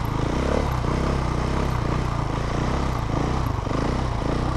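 A motorcycle engine bogs under load, a steady, loud, rough drone with low labored pulsing and no clear revving, heard close throughout with no talk.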